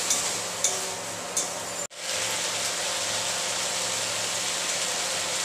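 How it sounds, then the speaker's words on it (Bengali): Vegetables frying with ginger and garlic give a dense, even sizzle close by, with a few light clinks early and a brief break near two seconds before the hiss resumes. "এবার আদা রসুন দিয়ে দিলাম, আদা রসুন দিয়ে একটু ভেজে নেব"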